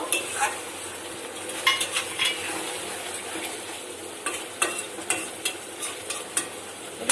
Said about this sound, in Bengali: এবারে গরম মশলা পেস্টটা দিয়ে দেবো দিয়ে একটু নাড়িয়ে নেব